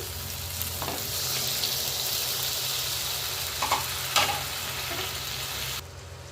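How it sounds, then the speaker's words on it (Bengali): Mutton kosha with masala sizzles in hot oil in a kash wok as a little water is added, a steady loud frying hiss with a few brief bubbling bursts and stirring. "এবার সামান্য একটু জল দিয়ে দিচ্ছি"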